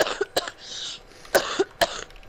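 A person coughs several times, sharp separate bursts spread across a couple of seconds, close and fairly loud with quiet gaps between them.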